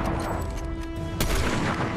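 Gunfire in a shooter video game: dense, continuous shooting with one louder sharp blast near the middle, set against a busy game soundscape.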